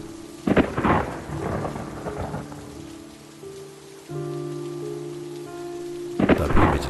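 Heavy rain pours steadily while loud thunder cracks and rumbles near the start and again at the end.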